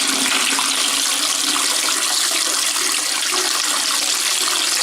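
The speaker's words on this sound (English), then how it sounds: "run the tap and see if it works while the tap's running on top of it" A water tap runs steadily over a ThruNite Ti3 flashlight, giving a constant, even hiss and splash of flowing water with no talking.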